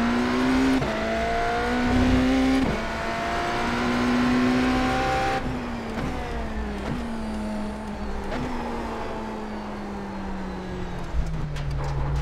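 A BMW M Hybrid V8 race car in iRacing: a loud, close engine howls through repeated upshifts, each rising pitch dropping back, with tire noise and a short squeal near the end.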